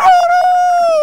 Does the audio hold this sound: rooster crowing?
yes